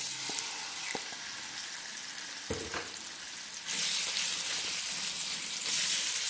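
Boneless chicken is added to hot oil in a kadhai for chow mein and fries with a steady, loud sizzle that swells and grows brighter partway through.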